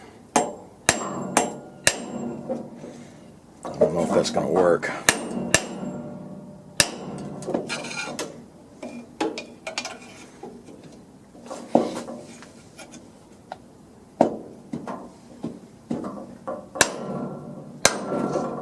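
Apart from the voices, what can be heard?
hammer striking metal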